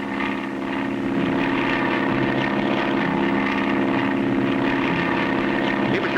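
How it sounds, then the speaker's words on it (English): A propeller airplane drones steadily overhead in an old Clutch Cargo bush-pilot cartoon, a loud, continuous engine hum with no voices. "We can catch him, Spinner. Our plane is much faster"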